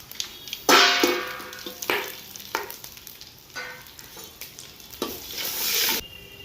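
Mustard seeds, cumin, chilies, curry leaves and asafoetida hit hot oil for tempering a large pot of Gujarati toor dal. Loud crackling sizzle comes in repeated bursts as the spices are stirred, with sharp pops and hiss close by.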